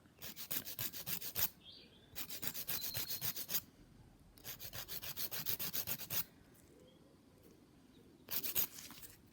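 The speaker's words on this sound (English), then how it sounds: "I'm going to file on top of that." Nail file rasping across acrylic product on a fingernail in close, repeated bursts of brisk back-and-forth strokes, separated by short quiet pauses.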